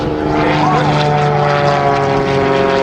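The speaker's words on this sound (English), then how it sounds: "He's got 300 horsepower in his airplane." A propeller airplane with a 300-horsepower engine flying aerobatics at an air show, its engine droning steadily and loudly with a rising and falling pitch as it maneuvers, with an announcer talking over it.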